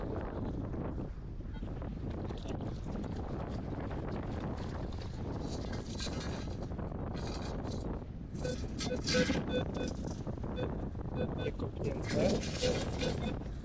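Heavy wind buffets the microphone throughout in continuous rumbling gusts that grow stronger toward the end, with a voice partly buried beneath, on wavy Lake Lubczyna in February.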